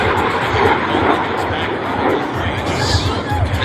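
A Yak-110 jet aircraft makes a pass at the Pacific Airshow, a loud broad roar filling the air over crowd chatter and talk from onlookers.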